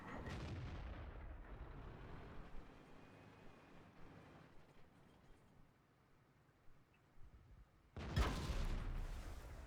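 Tank cannon fire in World of Tanks, with a heavy booming shot at the start and another loud blast near the end, separated by quieter rumbling battlefield ambience.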